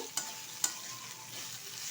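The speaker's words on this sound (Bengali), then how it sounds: "এবার ভালো করে আবার একটু নেড়ে চেড়ে নেব।" Shredded cabbage fries with ghee in a pan while being stirred, a steady close sizzle broken by two sharp scrape-clicks of the spoon, with no talking.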